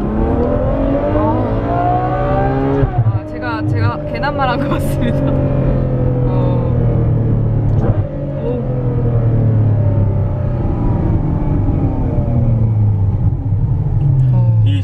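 A Ferrari 812 Superfast's V12 pulls hard under part throttle, its engine note climbing in strong layered harmonics, loud and close from inside the car, while people talk over it.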